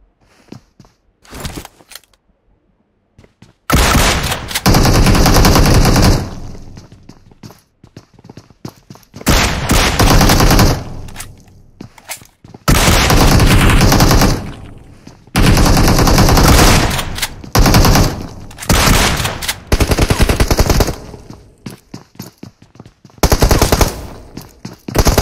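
Machine gun fire in the mobile battle royale game PUBG Mobile, loud sustained automatic bursts of several seconds each, separated by short quiet gaps and a few scattered single shots.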